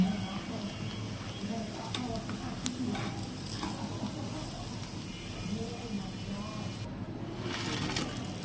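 Steady sizzling of pitha, a rice cake, frying in hot oil, with soft stirring and scraping noises throughout and a faint bird call in the background.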